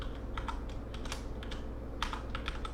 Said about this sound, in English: I'm going to type in game phrase